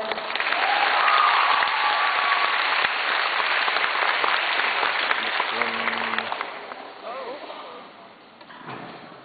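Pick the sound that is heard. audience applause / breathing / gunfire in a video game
audience applause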